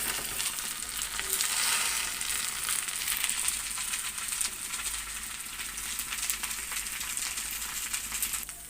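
Gongura (sorrel) leaves cook in oil for a sesame gongura chutney, giving a continuous bubbling sizzle with faint crackles that stays steady and close for the whole stretch, with no speech.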